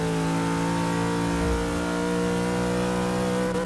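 A 1965 Ford Mustang engine revs hard and steadily in the Forza 6 racing game, a sustained mid-pitched roar with strong harmonics accelerating out of a turn, loud and alone without speech.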